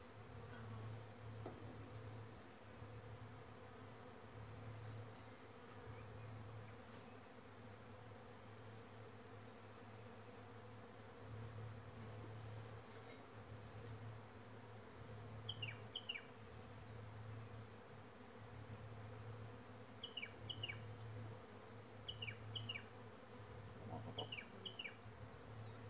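Honey bees buzz in a steady low hum as they are removed from a wine barrel, faint and continuous, with a few soft high chirps in the background.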